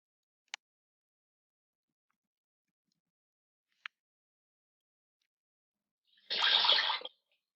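Running water plays from a phone app in one short burst of steady rushing near the end, after two faint isolated clicks in otherwise quiet surroundings.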